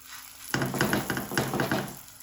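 A roti stuffed with radish filling hits a hot pan and sizzles at once, a close, steady crackle lasting under two seconds before easing off.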